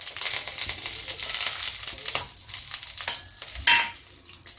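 Black cumin seeds and two green chillies hit hot oil in a home kitchen, setting off a loud, close sizzle with stirring scrapes and a sharp crackling burst near the end.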